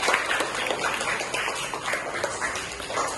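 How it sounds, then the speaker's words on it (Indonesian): Students in a classroom clap together, with steady, moderately loud applause running throughout without pause. "Kasih tepuk tangan buat Raya."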